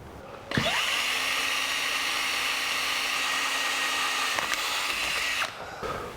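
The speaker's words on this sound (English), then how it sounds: "And now we drill the frame." A power drill whines steadily for about five seconds as it bores into the steel frame of a 1982 Jeep CJ7, starting and stopping abruptly.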